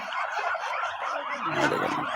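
Several egg-laying domestic ducks chatter and call close by in overlapping, nasal bursts, continuous across the short clip.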